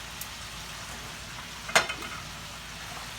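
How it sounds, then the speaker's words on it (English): Lemon pepper chicken wings deep-frying in hot oil, a soft steady sizzle with a sharp crackling pop near the middle followed by a couple of smaller spits, quiet and without voices. "While they frying here"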